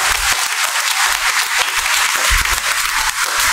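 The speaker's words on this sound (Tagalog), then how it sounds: "Isang malakas na palakpak para sa ating Panginoon." Loud, sustained applause from a congregation at a Christmas midnight Mass, dense steady clapping filling the church throughout with no talking over it.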